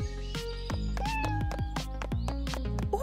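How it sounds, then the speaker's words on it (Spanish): A hungry kitten meows repeatedly in short, high, insistent cries, loud and close, with no talk over it. "Este gatito se muere de hambre."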